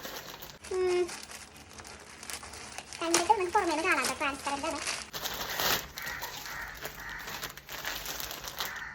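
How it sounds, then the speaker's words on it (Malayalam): Plastic packaging from a Flipkart chikankari kurta delivery being crinkled and torn open up close in loud irregular bursts, with a voice talking over parts of the handling. "ഇന്നാട്ടോ വന്നത് അത് നമുക്ക് അൺബോക്സ് ചെയ്ത് നോക്കാം"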